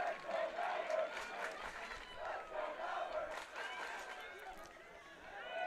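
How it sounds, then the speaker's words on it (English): A large home crowd chants and shouts together at a boys' high school lacrosse championship at Malvern Prep. The voices form a steady, rhythmic roar that is loud but somewhat distant. "The chant was "Let's go Malvern" from the local fan base."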